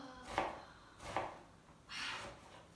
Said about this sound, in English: then we're going to simply chop it up there